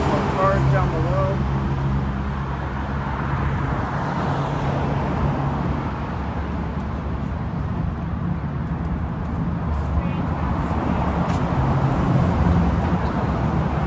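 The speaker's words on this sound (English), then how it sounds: "More cars down below." Road traffic passes below the Williamsburg Bridge in New York, a continuous low rumble of cars and heavier vehicles heard from above. It stays steady and fairly loud, with faint higher sounds over it.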